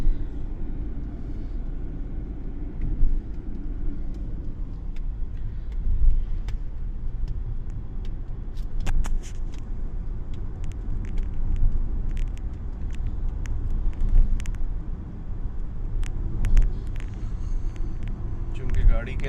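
Interior of a moving car, with a low, steady engine and road rumble running throughout and occasional small bumps and knocks, while a person talks over it.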